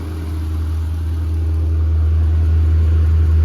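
A Pontiac G8 GT engine runs with a steady, low, close rumble that builds slightly in loudness, any lifter tick buried and hard to pick out.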